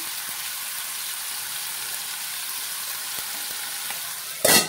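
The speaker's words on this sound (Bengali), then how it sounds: "নুন দিচ্ছি, একটু নেড়ে নিলাম।" Food sizzling and frying in a pan after salt is added, with a steady hiss and a few soft stirring knocks, ending in a brief louder scrape or clatter.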